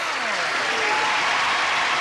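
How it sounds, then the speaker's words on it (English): A studio audience at a 1983 television game show claps in steady, brisk applause, an even wash of hand claps close and loud for the whole stretch. "join us in a round of applause"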